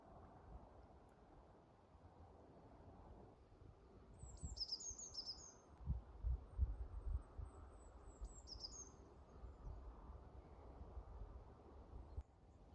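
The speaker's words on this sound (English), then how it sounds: "You can always hear the woodpeckers somewhere." Old forest with many aged trees, where faint distant bird calls and brief high chirps drift over a low, steady outdoor rumble, with no one speaking.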